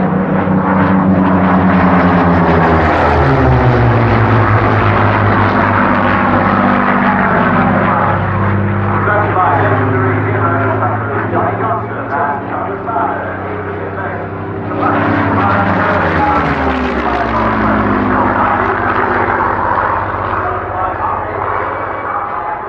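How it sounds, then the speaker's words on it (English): A Supermarine Mark II Spitfire passes overhead, a loud continuous propeller-engine drone that swells, shifts pitch as it goes by and rises again, heard with no other sounds over it. "here it comes, the one and only Supermarine Mark II Spitfire!"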